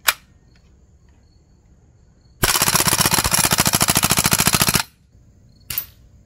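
A Crosman AK1 full-auto BB airgun fires one rapid burst of about two and a half seconds, a loud, evenly spaced mechanical rattle of shots. Brief sharp clicks come before and after the burst.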